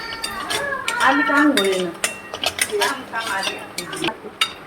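Turmeric toasting in an oily masala in a pan, with a metal spoon scraping and clinking against the pan in irregular strokes over a soft sizzle, close by.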